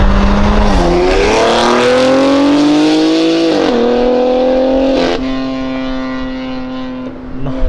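A BMW engine roars loudly while drifting, revving up and holding high with a rising pitch, a brief dip, then a sustained howl with faint tire squeal, up close and with no talk over it.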